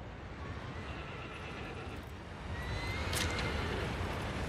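A horse whinnies faintly in the game Shadow of the Colossus amid a steady wash of broadband noise, with a brief louder neigh rising toward the end.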